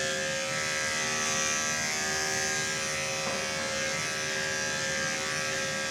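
Electric dog hair clippers run in a steady, close buzzing hum during a puppy's first haircut, holding an even drone throughout without speech.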